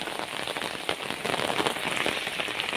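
Rain falls steadily on nearby surfaces, a dense close patter of drops with scattered sharper hits that grows slightly heavier midway, with no voices.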